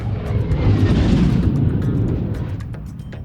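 A fixed-wing airplane roars loudly overhead in a broad, rumbling wash of engine noise that slowly fades, with no voices.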